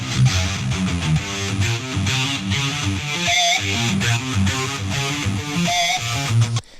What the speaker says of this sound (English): I just love those cheeky, ridiculous little pinch harmonic sounds